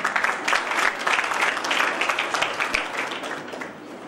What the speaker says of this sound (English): we should give our organization a huge round of applause